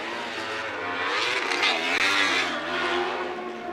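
Weller Racing SR1 UTVs racing on the Great American Short Course, engines droning and revving loudly with rising and falling pitch as the vehicles pass close by, no talk.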